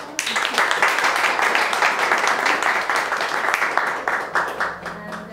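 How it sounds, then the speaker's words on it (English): A meetup audience in Oakland gives a speaker a round of applause: dense, steady clapping that stays fairly loud for several seconds before thinning out at the end. "one last round of applause for Savitha"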